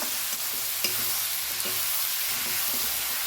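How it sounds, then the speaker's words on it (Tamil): Tomatoes and curry leaves sauté in a pan for a village-style tomato kuzhambu, giving a steady close sizzle broken by a few soft clicks and scrapes of stirring, with no voices. "தக்காளி நல்லா வதங்கிட்டு இருக்கு."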